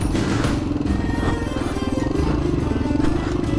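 Honda XL 500 R motorcycle ridden off-road on a track, its engine chugging in a rapid rhythmic pulse, close and loud with clattering bumps, and a rider's voice partly over it.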